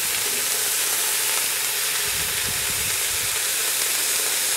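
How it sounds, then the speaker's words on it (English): Onions sautéing in a pan for an Indian-style dish, a steady broadband sizzle and hiss throughout with a brief low stirring rumble in the middle. "I'll just kind of let them saute for about 5 minutes."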